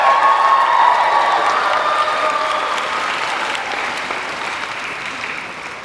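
A large crowd applauds at a high school graduation ceremony, dense sustained clapping with a few faint cheers, loud at first and slowly tapering over several seconds.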